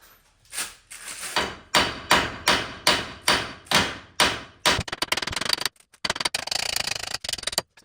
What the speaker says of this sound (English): my ball joint isn't just popping out like it's supposed to, so I gotta keep on hammering on it